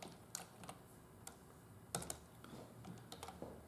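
Someone types code on a computer keyboard, with quick soft key clicks in uneven bursts. The keys sound close but quiet, with no talking.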